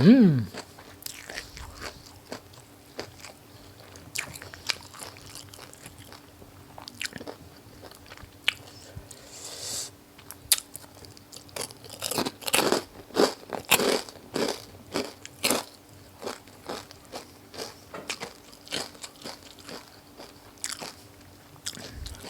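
Crispy pork rinds bitten and chewed close up, with loud irregular crunches that grow denser in the second half, and a brief bit of talk near the start.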